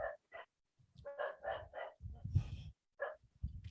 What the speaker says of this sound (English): I'm very sorry for my dogs.